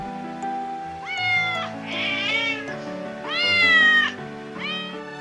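A little black cat meows several times in a row, clear and close, with long rising and falling cries over soft background music.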